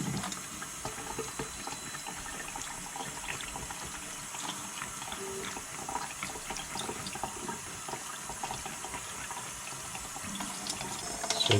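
Running tap water rinsing a marker stain, cleaned with acetone, out of a shirt, a steady close hiss and splash of water over fabric throughout, with no talking.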